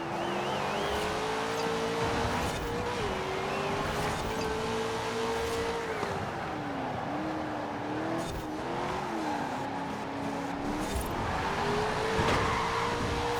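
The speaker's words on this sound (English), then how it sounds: "Going to understeer a little bit and end up in the wall, so I'm going to get penalized for that." A race car in Forza Horizon 4 runs hard into a corner and understeers toward a wall, with a continuous loud engine drone whose pitch rises and dips under a rough layer of tire noise.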